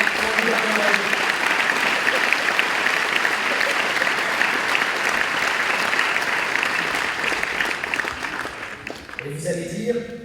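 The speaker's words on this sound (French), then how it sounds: "Arnaud, on peut t'applaudir parce que tu fais un travail formidable." Sustained crowd applause fills a political meeting, dense and loud throughout, thinning slightly near the end as voices start to emerge.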